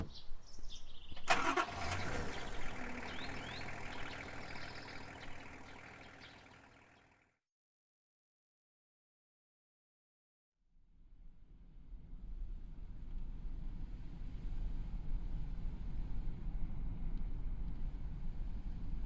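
Car engine at idle, then a pause, then a steady engine rumble building as the vehicle drives off, near and continuous with no talk.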